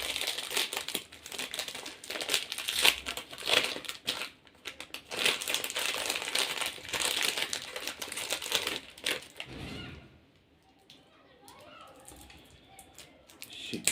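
A plastic wrapper from a biscuit packet crinkles and rustles loudly in bursts at close range, and a person talks during the handling before it trails off into quieter rustling.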